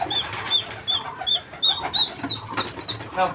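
Chicken chicks peep in a quick series of about nine high, thin calls at a steady pace, close by over faint background noise.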